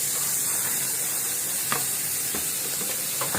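Onion fries in a hot pan with a continuous loud sizzle, broken by a few soft scraping strokes of stirring, without any voices.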